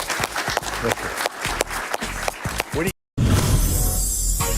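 Television studio audience applause with sharp, dense clapping, loud and close, briefly cut off, then returning as a steadier wash of clapping and crowd noise.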